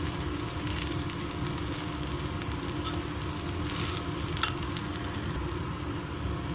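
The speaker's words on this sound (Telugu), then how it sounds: "ఎగ్ రైస్ వేసాం కదా, ఎగ్గులో బాగా కలుపుకోవాలి." Egg fried rice stirred in a hot pan at home gives a steady, dense sizzle and hiss throughout, with a few faint scraping accents and one small clink.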